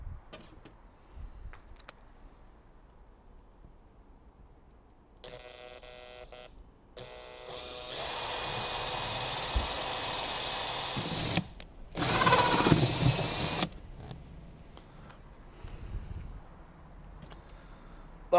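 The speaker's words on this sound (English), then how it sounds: "I'm just going to go around this lid and drill all of the holes that we need." A power drill whirs in several bursts drilling holes in a plastic lid, some short and some sustained for a few seconds, close and loud, with quiet pauses between.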